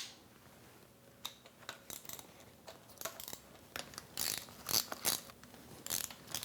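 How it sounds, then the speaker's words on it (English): A ratchet wrench clicks as 9/16 intake manifold bolts are loosened on a Chevy 350 small block engine during teardown, with quick bursts of metallic clicks and clanks coming in irregular spurts, close and fairly quiet, no talk. "To remove our intake manifold, we've got 12 of these 9/16 bolts to remove."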